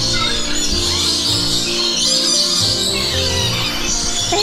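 A dense, loud chorus of many birds calling together inside a large open aviary at Jurong Bird Park, with continuous overlapping chirps and whistles filling the space.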